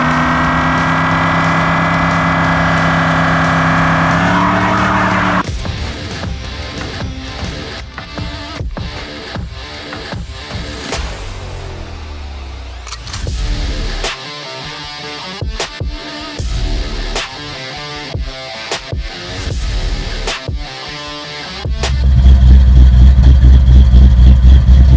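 Pontiac Trans Am engine running at a steady, loud idle near the microphone for a few seconds, then clicks and knocks over a quieter engine, which swells back to a strong rumble at the end.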